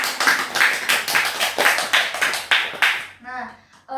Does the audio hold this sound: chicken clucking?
no